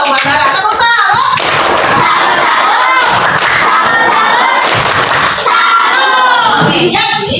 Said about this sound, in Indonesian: tepuk salut dulu dong buat Bara